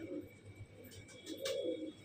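Punjabi Malwai pigeons coo in soft, throaty bursts close by, two short rounds of low burbling calls over faint background noise.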